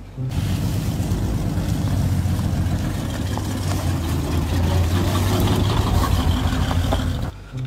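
A red classic car's engine runs with a continuous low rumble and a gritty, hissing texture, fairly loud and steady from start to finish, with no voices.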